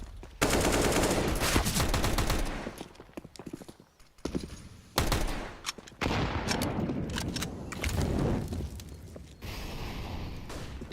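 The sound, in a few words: Tec-9 pistol and rifle gunfire in Counter-Strike video game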